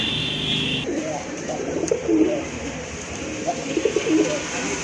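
Pigeons offered for sale in pairs coo and murmur in a repeated low rhythm, fairly close, after a brief high steady tone at the start, with faint background chatter.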